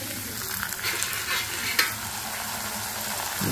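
Food fries in a blackened iron wok, a dense continuous sizzle with scraping stir noises and one sharp clink, close and fairly loud, with no voices.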